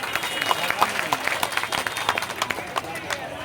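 A crowd claps in a burst of applause welcoming a speaker at a workers' protest sit-in, sharp irregular hand claps filling the space, with some talking mixed in.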